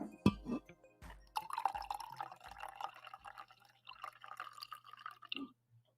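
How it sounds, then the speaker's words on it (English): Liquid poured gently into a container, with a few soft drips at the start, then a steady trickle lasting several seconds and tapering off, close and quiet with no talking. "That was a gentle pour."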